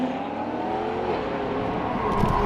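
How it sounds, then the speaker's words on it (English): A Ferrari LaFerrari and a C8 Corvette run a drag race, engines roaring at high revs in a sustained, slightly rising howl heard from close by for a couple of seconds. "That was the world's first drag race between a Ferrari LaFerrari and a C8 Corvette."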